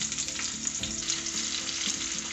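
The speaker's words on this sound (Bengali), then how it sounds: "ফোড়নটা হয়ে এলে এর মধ্যে দিচ্ছি একটা মিডিয়াম সাইজের পেঁয়াজ, একটু একদম পাতলা পাতলা করে কেটে দিচ্ছি।" A medium onion, sliced very thin, sizzles steadily in hot oil over a tempering of cardamom, clove, cinnamon and a dried red chilli, with a dense, continuous frying hiss and occasional stirring scrapes, close and loud.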